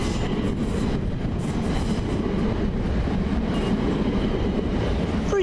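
A Class 375 electric multiple unit arriving from Ramsgate, heard as a steady, loud rumble of rolling rail stock throughout with a faint clickety-clack of wheels.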